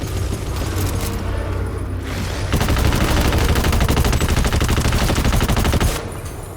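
Rapid automatic gunfire from the video game GTFO, a loud sustained burst of closely spaced shots running several seconds after a quieter stretch of game noise.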